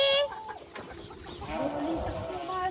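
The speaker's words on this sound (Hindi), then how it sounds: "हम लोगों की मुर्गी मुर्गियाँ भी यहीं पर है" Chickens cluck close by on a farm in a short burst of calls, with a little background noise around them.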